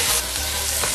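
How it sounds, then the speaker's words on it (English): Bacon and meat fry in a pan, a loud, steady crackling sizzle filling the short moment without any voices. "pay attention when it's frying"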